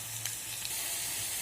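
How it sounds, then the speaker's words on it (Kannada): Chopped onion, mustard seeds and curry leaves fry in oil in a pan, a soft, even sizzle heard close and quiet, with a couple of light stirring clicks and no talking. "ಈರುಳ್ಳಿ ಫ್ರೈ ಆಗಿದೆ."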